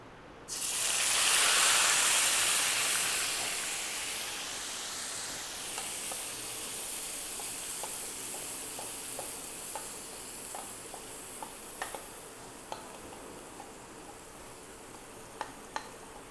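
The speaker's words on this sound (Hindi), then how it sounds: "दोस्तों ऑयल भी गर्म हो चुका है, अब हम इसमें कलेजी शामिल कर लेंगे।" Kaleji (liver) dropped into hot oil bursts into a loud rushing sizzle that settles into steady frying, with scattered small pops and crackles near the end; no one speaks.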